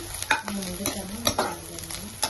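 Dried prawns frying in oil in a pan, a close, steady sizzle broken by several sharp scraping stirs of a spatula.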